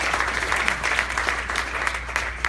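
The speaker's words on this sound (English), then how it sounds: "can we just give Cheryl a round of applause for keeping moving?" A round of applause from an audience at an environmental justice evening event, steady crowded clapping at moderate volume over a low background hum, with no voices.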